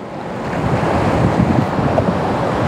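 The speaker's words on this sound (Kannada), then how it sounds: "ಇಲ್ಲಿ ನನ್ನ ಕೈಲಿದೆ ನೋಡಿ ಒಗೇನಕಲ್ ಫಾಲ್ಸ್." Rushing water at Hogenakkal Falls, a steady broad roar filling the whole stretch, close and loud with wind buffeting the microphone and no voices.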